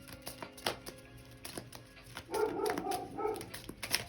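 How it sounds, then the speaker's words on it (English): A dog barks somewhere in the background of a home, a few faint, distant yips and barks scattered through the clip, with a slightly louder burst midway, all quiet and indistinct. "the dog's barking back there"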